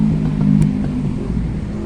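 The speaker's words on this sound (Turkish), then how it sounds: "bol bol da araba sesi geliyor" A car engine hums and whirs close by as a vehicle passes, steady and fairly loud throughout the short stretch.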